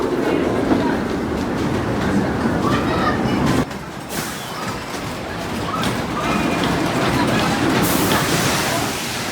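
A train on the Judge Roy Scream wooden roller coaster at Six Flags Over Texas rattles steadily along its track, close and loud, with a sharp break partway through and voices underneath.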